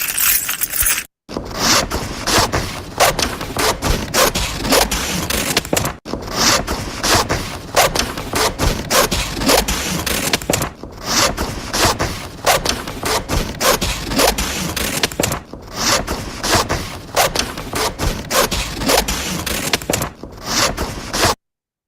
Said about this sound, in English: Scissors, cutting paper.